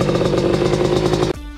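A 1986 Kawasaki Tecate 3 three-wheeler engine runs close and loud at a steady, rough, clattering idle, then cuts off abruptly near the end, leaving only faint background.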